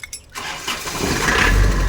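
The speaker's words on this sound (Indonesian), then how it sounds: "Kita coba nyalakan apa namanya, nyalakan suara mesinnya ini ya" A 1996 Isuzu Panther Grand Royal engine turns over briefly and catches at once, rising into a loud, steady idle close by.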